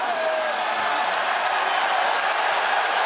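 Sold-out crowd at the Coca-Cola Arena during a fight, a steady wash of cheering and applause filling the room at moderate volume without any break.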